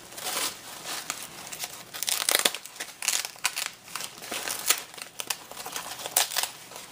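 Decorated paper bag being opened by hand, with close, loud crinkling and crumpling in repeated bursts of rustling paper and no talk.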